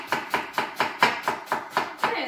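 An onion is chopped on a cutting board in a kitchen where fish dishes are prepared, about nine crisp, evenly spaced knife strokes in a quick, steady rhythm, close by.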